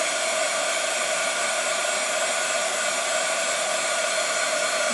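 A hair dryer runs steadily and close for the whole stretch, a continuous even whir drying a tacky chalk paste layer on a Chalk Couture vintage truck buffalo plaid craft piece, with no talking.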